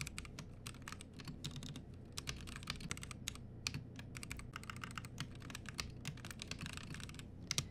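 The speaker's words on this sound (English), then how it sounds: "I can type out some code if I want to" Code is typed on a computer keyboard at a steady pace, with dense, crisp key clicks close to the mic. The clicking runs alone throughout, and no one speaks.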